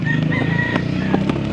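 Loud nearby crowing and clucking from chickens and a rooster at a Sunday chicken market in Angeles, Pampanga, several overlapping calls filling the short stretch.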